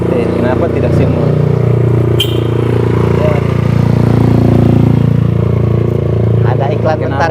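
A motorcycle passes by, its engine drone rising and fading steadily under close conversational speech throughout.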